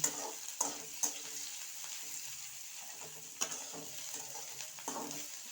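Green chili frying with browned onions in a pan makes a soft, steady sizzle, punctuated by several sharp spoon scrapes and clacks as the mix is stirred, close by and fairly quiet, with no talk.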